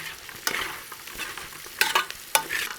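Kashmiri chili powder gets stirred into an orange chicken mixture, a low swishing scrape broken by three sharper spoon knocks against the bowl, close up and quiet, no one speaking.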